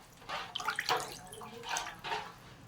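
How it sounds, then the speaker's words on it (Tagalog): Water sloshes and splashes in a basin as raw chicken is washed by hand, a continuous close, moderately loud swishing with a few stronger surges and no talk. "Hugas ng hugas habang meron pang nalabas ng dugo ng manok"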